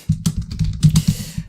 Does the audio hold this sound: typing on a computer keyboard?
yes